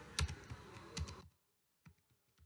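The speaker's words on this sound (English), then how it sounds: "Now type function name as response" Computer keyboard typing, a quick run of close clicking keystrokes for about a second, then silence broken by a few isolated key taps.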